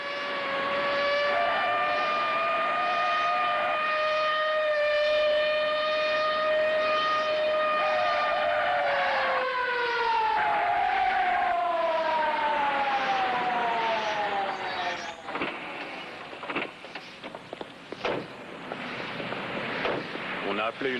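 An ambulance siren wails in a long, loud, continuous rising and falling tone, sweeping down in pitch before breaking up into clatter and scattered noise near the end.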